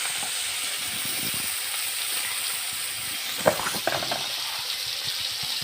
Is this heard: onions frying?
yes